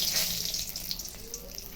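Dried red chilli and bay leaf sizzling in hot oil while tempering dal, a brief, close, steady hiss with bright crackle and no talk.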